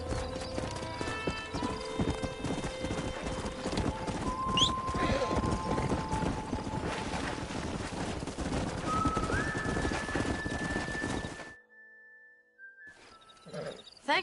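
Hooves clip-clop at a brisk gallop with an occasional whinny and music in the background in the video game Red Dead Redemption, then the hoofbeats stop and a soft tone lingers.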